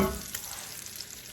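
Bacon frying in a skillet gives a steady, close sizzle with soft crackle and stirring noise throughout, no voices present.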